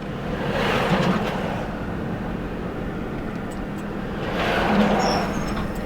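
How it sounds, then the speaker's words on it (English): Huge trucks on the Georgian Military Highway rumbling past one after another, two heavy passes swelling up and fading away over a continuous low road roar. "So it's full of huge trucks coming back and forth."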